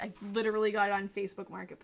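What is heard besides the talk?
No everyday noise stands out behind the speech.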